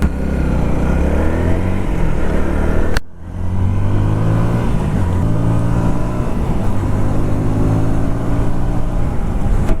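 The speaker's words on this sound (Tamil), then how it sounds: "நல்லா ரெவ் பண்ண முடியுது." A KTM Duke 160 street motorcycle on a test ride, its engine revving loudly and continuously up through the gears with one brief break for a shift, close and steady with wind noise and no talk.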